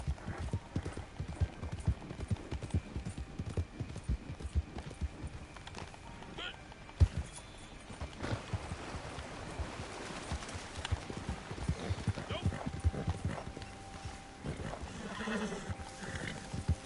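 Horse hooves clip-clop steadily through Red Dead Redemption 2 gameplay, with a brief neigh, alongside game sounds and a voice talking over them.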